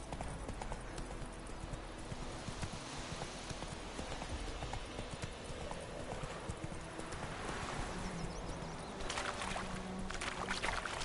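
The horse Roach gallops in a video game, a quick repeated clip-clop of hooves running steadily throughout over faint background ambience, with no talk.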